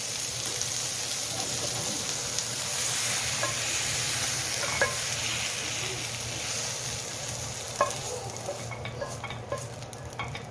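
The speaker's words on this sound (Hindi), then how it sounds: "ये चिकन अब गोल्डन ब्राउन हो चुका है और अच्छे से फ्राई हो गया है।" Chicken pieces for shawarma fry in a hot pan, giving a close, continuous sizzle and crackle with stirring scrapes and a few sharper pops near the end.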